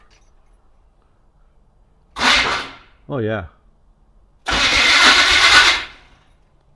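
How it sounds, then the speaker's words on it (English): A 1980 Chevrolet C/10 square-body Cheyenne truck engine cranks in short grinding starter bursts, with a whining spin between them, then a longer loud cranking roar. Someone speaks briefly. "So I'm gonna hit the ignition switch and see what it's gonna do"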